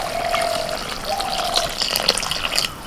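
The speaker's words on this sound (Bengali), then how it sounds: "এবার অল্প করে একটু জল দিয়ে দিচ্ছি।" Water poured a little at a time into lentils with boiled mutton trotters in a pot, a short close splashing pour with a faint trickling tone.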